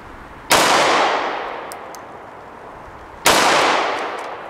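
Two loud, sharp reports from a Kimber K6s .357 revolver, spaced a few seconds apart, each cracking close by and trailing off in a long ringing decay.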